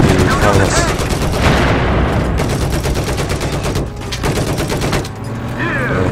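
Loud, dense gunfire from Battlefield 4 during a tank battle: rapid machine-gun bursts and heavy shots roll on almost without pause, close and harsh, with faint talk underneath.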